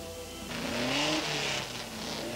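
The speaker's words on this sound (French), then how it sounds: "un tour d'honneur bien mérité pour les Bentley" Vintage Bentley racing cars on a lap of honour at a 1990 golden-age Grand Prix, engines rising in a moderate roaring swell as they pass, then easing off, with no voices.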